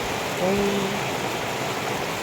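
Heavy rain falling in a rural province setting, a dense, steady hiss with no breaks, with a faint brief tone partway through.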